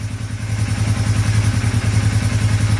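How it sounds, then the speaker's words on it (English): A four-wheeler ATV engine idling on a rainy day, a loud, close, steady low chugging with an even rapid pulse and faint mechanical clatter, no talking. "start my four-wheeler up, and just let it idle for a while"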